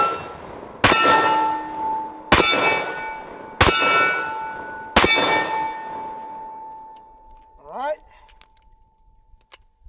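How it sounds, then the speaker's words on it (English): Four loud, sharp shots from a 500 S&W revolver with an 8 3/8 inch barrel firing 350 grain bullets come about 1.5 seconds apart, each one followed by a ringing decay, and a brief voice is heard at the end. "So now we are going to move on to the 8 3/8 inch barrel using 350"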